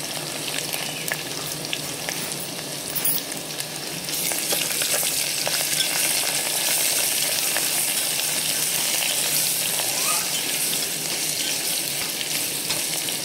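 Ginger-garlic paste frying and being stirred for khichdi kadhi sizzles and crackles steadily, growing louder and denser after a few seconds, with occasional scraping from the stirring, close by and without voices.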